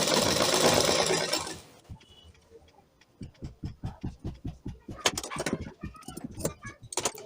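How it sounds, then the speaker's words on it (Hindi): Sewing machine stitching along the edge of a fabric piping strip for a blouse sleeve, a steady run of quick needle bursts at close range after a loud hiss at the start, with no talking. "तो हम पट्टी को घुमाते हुए सिलाई लगाते जाएंगे।"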